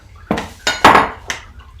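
Pasta dough is mixed by hand with flour in a kitchen, giving a few separate clinks and scrapes of utensils against a bowl, spaced unevenly and close by.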